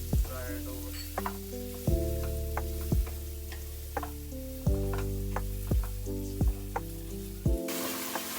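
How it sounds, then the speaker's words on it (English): Mushrooms and vegetables frying in a pan for white sauce pasta, a steady sizzle punctuated by regular sharp ticks and clacks of a spatula against the pan, with a brief louder hiss at the end. "Mushrooms over here. We're just gonna fry it over."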